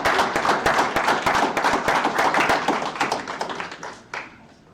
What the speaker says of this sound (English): I want to just start off by giving them just a round of applause.